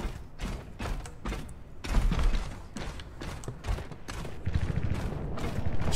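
Repeated booming explosions and heavy thuds from the video game Overwatch, dense and rumbling, continuing without pause.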